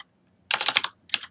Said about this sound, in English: I'll type that in a second